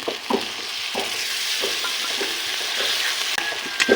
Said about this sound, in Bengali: মশলা ভালো করে ভেজে নিয়েছি, এখন দিয়ে দেব অল্প করে জল মশলা কষানোর জন্য।